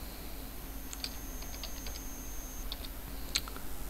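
Computer keyboard keys are tapped to type an AT modem command, a quiet run of about a dozen separate clicks in an uneven rhythm over faint room hum, with no talking.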